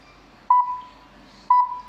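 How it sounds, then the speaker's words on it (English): Two short electronic beeps about a second apart from an IP camera during setup, each trailing into a faint tone, over a quiet background hum. "Make sure the camera have the beeping light and the beeping sound also."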